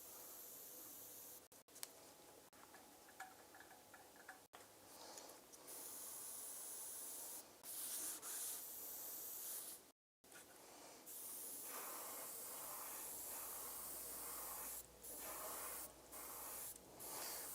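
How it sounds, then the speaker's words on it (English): An airbrush sprays paint onto a model Rhino tank in bursts, a soft close hiss starting and stopping repeatedly with short quiet gaps, faint and alone without talk. "let's go ahead and adjust the pressure, see if we can get it to spray a little bit cleaner for us."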